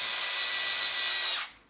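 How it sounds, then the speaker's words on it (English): A power drill whirs steadily, driving screws during an RC car build, then winds down and stops abruptly near the end. "might be quicker if I use my drill"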